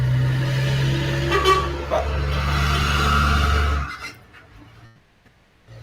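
A car horn honks outside during a geography lecture, a loud, steady blare held for nearly four seconds before cutting off into a quiet room.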